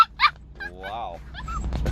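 A puppy gives short yips and whimpering barks close by, a few quick bursts over a faint steady road rumble inside a car driving through a snowstorm on I-84 in the Columbia River Gorge, Oregon.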